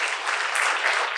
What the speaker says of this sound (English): I would like some of you to applaud the photographer